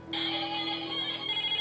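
A mobile phone ringtone plays steadily for under two seconds, a bright sustained electronic tone that is loud and close, with no talking over it.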